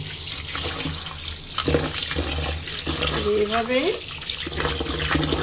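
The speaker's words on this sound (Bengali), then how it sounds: "এখন চালটাকে আমি ভালো মতন ধুয়ে নিব।" Running tap water splashes steadily while rice is rinsed in a pot for pulao, with someone speaking briefly over it and a short rising squeak midway.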